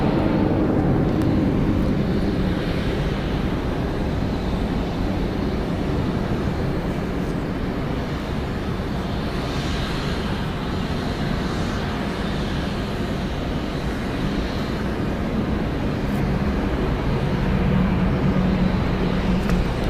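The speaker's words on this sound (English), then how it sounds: "Gonna have to wait for the reverse thrusters to quiet on down." A Delta Airbus A321 arriving at Atlanta Hartsfield-Jackson from Milwaukee runs its reverse thrusters after landing, a sustained low rumbling roar heard from a distance that stays fairly constant without voices.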